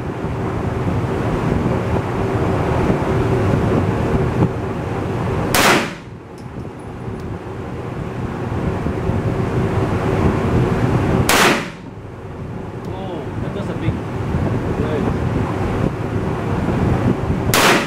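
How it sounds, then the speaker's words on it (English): A 1911 pistol is fired at a shooting range in Cebu, Philippines, two loud sharp reports spaced about six seconds apart over steady wind buffeting the microphone. "Last 9 rounds, I'll finish up on the 1911."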